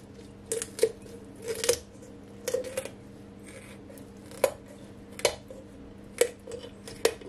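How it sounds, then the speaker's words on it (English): Kitchen scissors cut through a raw chicken backbone in a quiet kitchen, making sharp, isolated crunching snips spaced about a second apart, close and distinct against faint background hum. "So I'm gonna cut the, you know, backbone."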